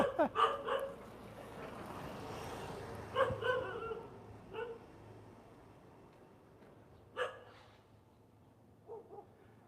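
A dog in a Thai neighborhood in Hua Hin barks repeatedly at a passerby, a flurry of sharp barks at first, then scattered single barks and yips with pauses between, moderately close outdoors.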